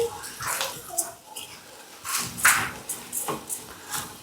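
Water poured into a pot of rice for cooking on a home stove, a splashing, bubbling pour with short bursts and clinks, close by, with faint voices in the background.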